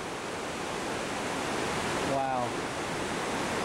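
Waterfalls pour into Gorge Creek gorge in North Cascades National Park, a steady broadband rush of falling water heard from an overlook, with a brief exclamation from a voice partway through.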